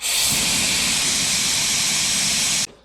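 Pneumatic brake bleeder on a 1965 Mustang drawing brake fluid out of the master cylinder reservoir, a steady loud airy hiss running almost three seconds before cutting off abruptly.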